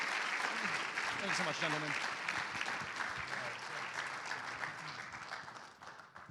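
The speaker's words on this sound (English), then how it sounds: "Everyone, round of applause, please, for Aaron and Sean." Conference summit audience applauds in a steady, full round of clapping that fades toward the end, with a man briefly thanking people over it.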